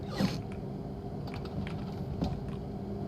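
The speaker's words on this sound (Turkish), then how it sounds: "Wilson'un kapı sesi duyuldu" A door mechanism in Roblox Secret Neighbor creaks faintly at a distance, a few soft grinding creaks with a low hum behind them.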